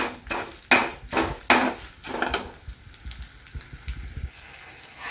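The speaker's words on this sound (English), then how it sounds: "Now see, I'm frying all the ingredients." Ingredients with salt, turmeric and asafoetida frying in a pan on a stove, heard as a few loud sharp clatters and knocks early on, then softer scattered crackles and taps.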